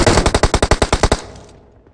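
Rapid automatic gunfire in PUBG Mobile, about a dozen loud, evenly spaced shots in a tight burst, then a short fading tail, with no talk over it.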